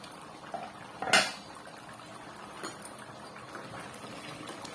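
Lid lifted off a cooking pot of kurma, a sharp metallic clink followed by faint clatter and soft bubbling of the simmering gravy.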